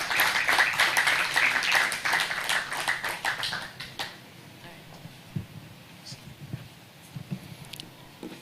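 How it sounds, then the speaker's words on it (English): A conference audience applauds a keynote speaker with dense, sustained clapping for about four seconds. The clapping then fades into quieter room noise and scattered voices. "let's give a final round of applause to Dr. Rabiu Olowo for his amazing keynote speech"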